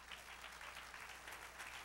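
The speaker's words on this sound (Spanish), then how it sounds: "Dale un aplauso al Señor." Church congregation applauding during a Spanish-language sermon, a steady, dense wash of clapping that fills the whole moment at moderate volume without pause.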